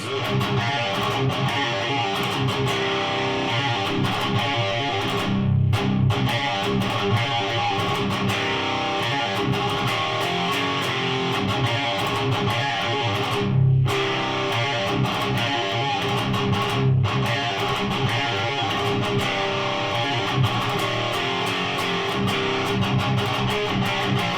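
Heavily distorted electric guitar through a Lauren Audio Spitfire overdrive distortion pedal pushing an amp, playing a continuous chugging riff, loud and dense, with a few brief cut-offs between phrases.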